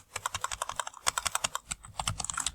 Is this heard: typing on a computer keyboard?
yes